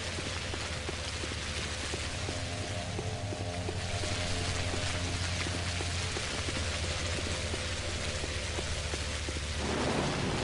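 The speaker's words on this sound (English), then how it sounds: "Even cooler with the thunder." Steady rain pours through a thunderstorm in the video game Pathologic HD, a dense, constant hiss with a low rumble underneath and a faint mechanical tonal hum running through it.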